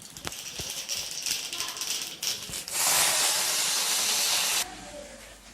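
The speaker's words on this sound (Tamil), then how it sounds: "இப்போ கடுகு உளுத்தம் பருப்பு போட்டுக்கிறேன்." Mustard seeds and urad dal tempering in hot oil in a kadai, rapid crackling pops giving way to a loud, dense hissing burst that cuts off abruptly, close and without voices.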